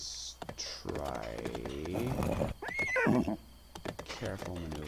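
A horse in a video game neighs and whinnies loudly in several bursts, with clip-clop hoofbeats and faint keyboard typing beneath, while a nearby voice talks over parts of it.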